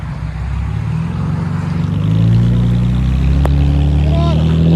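A 2014 Chevy Camaro 3.6L V6 with an aftermarket exhaust revs up loud and close, its deep droning note climbing about halfway through and holding high, with some talk underneath.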